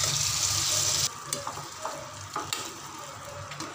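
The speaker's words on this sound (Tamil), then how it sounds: "இது 3-4 நிமிஷம் நல்லா ஃப்ரை ஆகட்டும் இந்த ஈரத்துலேயும், மீடியம் ஃப்ளேமில் வச்சுக்கோங்க." Marinated chicken frying in an onion and tomato masala over a medium flame for a Chettinad chicken gravy, a steady close sizzle that drops in level after the first second, with scattered stirring scrapes and clinks.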